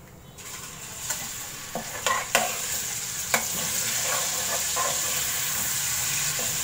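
Chicken sizzles loudly as it goes into hot masala in a pan, with a few sharp spatters and stirring knocks over a continuous frying hiss.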